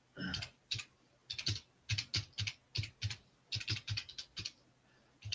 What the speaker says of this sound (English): Hold on, typing.